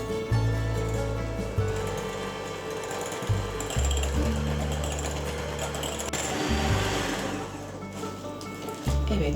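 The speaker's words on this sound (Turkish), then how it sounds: "Yumurtaların rengi açılana kadar bu şekilde yumurtaları şekerle çırptım." Eggs beaten with sugar for a Turkish revani semolina dessert, likely with an electric mixer: a loud, steady mechanical whir with brief pauses and restarts, alone without talk.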